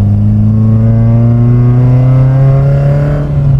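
A Toyota Great Corolla with a 4A-GE engine revving at half throttle, one loud close sustained rev whose pitch climbs steadily and then drops off at the end, with no talk.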